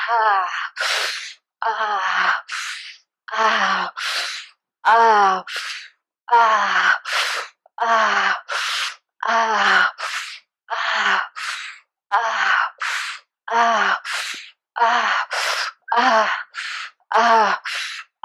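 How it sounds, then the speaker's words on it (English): Deep, rhythmic breathwork inhales and exhales, about a dozen breath cycles close to the microphone, each a loud, airy rush with gasping, moaning edges, steady and unhurried with brief pauses between. "deep breaths, deep inhale, expanding a little more with each inhale"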